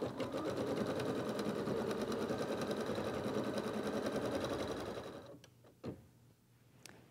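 An embroidery sewing machine stitches a chick outline onto felt in the hoop, a fast, even mechanical chatter for about five seconds before stopping, followed by a few soft clicks and handling knocks.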